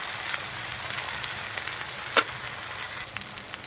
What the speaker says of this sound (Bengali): এবার সুন্দর করে কষিয়ে নেব